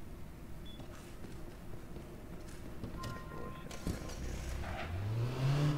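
A car engine in the PC game APB Reloaded hums steadily, then revs higher and rises in pitch toward the end, with faint background game noise.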